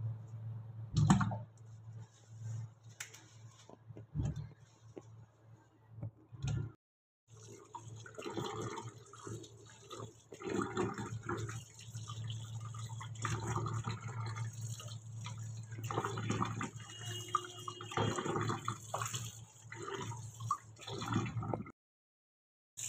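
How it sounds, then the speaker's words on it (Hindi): Mangoes being rinsed under a running kitchen tap, with steady water flow and clicking splashes that stop and restart in bursts, close and moderately loud, with no talk. "1 मिनट पहले मैं ना आम अच्छे से धो लूँ तब रखूँगी।"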